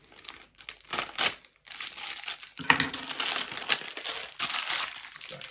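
Close, loud crinkling of a plastic bag inside another plastic bag while a lost parcel is unpacked, in irregular bursts, with a short pause before the rustling and crunching resume.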